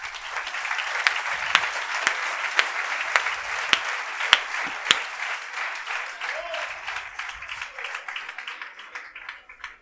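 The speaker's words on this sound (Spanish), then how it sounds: "Denle un aplauso al Señor." Sustained audience applause at a youth conference, with a hall full of hands clapping steadily and some sharper individual claps standing out, fading toward the end.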